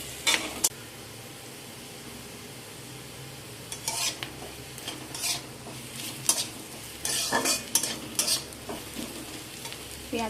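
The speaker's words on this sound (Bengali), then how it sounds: "পেঁয়াজগুলো এখানে আমার ভাজা হয়ে গিয়েছে।" Sliced onions and garlic sizzle in a pan, a soft frying hiss broken by louder scraping bursts as a spatula stirs them, close up and with no talk.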